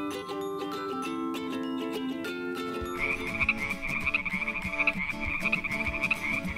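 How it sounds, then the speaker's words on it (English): A chorus of frogs croaking at a lake, with dense rhythmic croaks growing louder and busier partway through over a soft musical backdrop. "Look at all of these frogs, and they're all fully grown."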